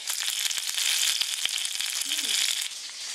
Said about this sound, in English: drink your wine while you're listening to the salmon sizzle